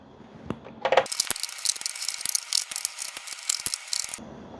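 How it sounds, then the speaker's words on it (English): Small T10 Torx screws come out of a Jeep Grand Cherokee WK2 overhead panel, heard as a close, rapid, continuous ratcheting click from a driver for about three seconds, with a few light knocks before it and no talking. "using the T10, we're going to go through and take all 12 of these screws out"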